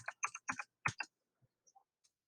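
A computer keyboard clatters under quick typing, a short burst of close, crisp key clicks followed by a few scattered faint taps and near silence.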